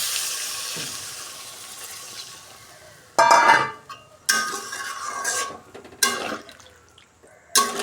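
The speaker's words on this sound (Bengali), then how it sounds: "এবার এতে আমি জল দিয়ে দেব।" Water pours into a cooking pot of spiced flour dumplings in several splashing bursts separated by brief pauses, close and fairly loud, with faint clinks of the vessel.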